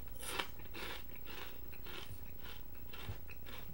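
Andy Capp's BBQ Fries, a crunchy barbecue-flavored corn snack, being chewed close up, with a steady run of crisp crunching and no talking.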